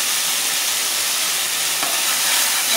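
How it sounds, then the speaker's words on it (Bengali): A paste of ground garlic, cumin and dried chili with salt and turmeric sizzles hard in a hot pan, a loud, dense, continuous hiss throughout. "মশলাটাকে ভালো করে ভেজে নেব।"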